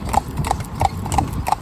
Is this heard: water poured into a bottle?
no